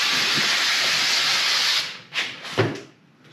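A spray can of cleaner is used on clutch parts of a Can-Am Maverick X3, giving one long, steady, close hiss followed by two short bursts.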